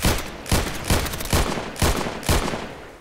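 Gunfire in the online shooter Contract Wars: loud single shots fired at a steady rhythm, about eight reports roughly every half second, close and alone with no talking.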